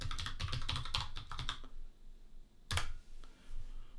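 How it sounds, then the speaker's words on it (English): Quick run of computer keyboard key presses entering a command in a terminal, close and crisp, stopping partway, then a single separate keystroke and a faint tap afterward. "So I just now need to type configure"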